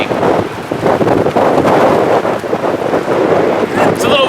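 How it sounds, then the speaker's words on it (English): Strong gusts buffet an outdoor microphone at a roadside rest stop, a loud, rumbling broadband roar that surges and dips continuously, with a brief voice near the end. "It's a little windy."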